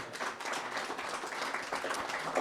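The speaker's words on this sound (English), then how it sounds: "So give him a round of applause for that" A crowd at an economic and real estate summit applauds continuously, dense clapping from many hands filling the room at a steady level.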